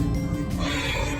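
A camel out in the desert lets out a loud, close, groaning bellow that holds steady for about a second, with no other sounds around it.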